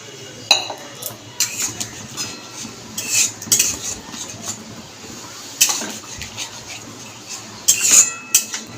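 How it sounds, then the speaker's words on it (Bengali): Metal spoon stirring tengra fish curry in a pan on low gas, with irregular scraping clinks and knocks against the pan coming in short bursts over a quiet background. "এবারে ভালো করে একটু নাড়াবো একদম কমিয়ে দেবো গ্যাসটা"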